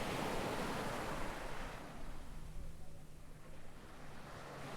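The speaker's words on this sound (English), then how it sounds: "do you hear the water" In a Lovecraft horror video game, water laps gently around a small drifting boat, a soft, steady wash of surf-like sound with a faint windy hiss, heard alone at low level.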